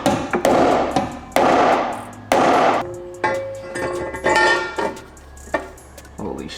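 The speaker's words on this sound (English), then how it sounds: "I can try and hammer it more" Repeated hammer strikes banging out the metal strut tower of a Nissan 350Z, loud and close at an irregular pace, some blows ringing with a metallic tone, with bits of speech between.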